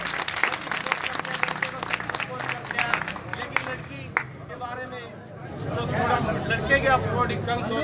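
Village crowd applauding at a welcome for a karate gold medalist's parents, dense clapping mixed with crowd babble and talk, a brief lull midway before the applause swells again.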